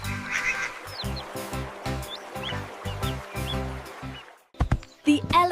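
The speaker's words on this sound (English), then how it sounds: "The duck gives us eggs and food." A cartoon duck quacks in a rapid string of nasal quacks up close, then goes quiet briefly before a few more loud honking quacks.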